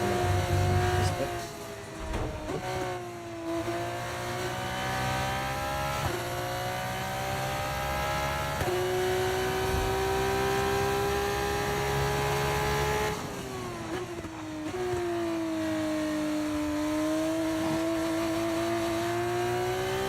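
A racing video game car engine whines and revs steadily, its pitch dropping at each gear shift and then climbing again, with brief dips around corners, sustained at moderate loudness.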